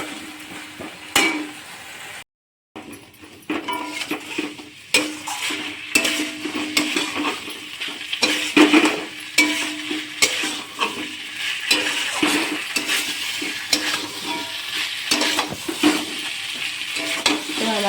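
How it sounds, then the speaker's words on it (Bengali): Spice paste for a Bengali hilsa fish and potato curry is stirred and fried in a pan, with steady sizzling and repeated scraping and clinking of a utensil against the pot, close and fairly loud, with no talking. "এবার মশলাটা ভালো করে কষে নেব।"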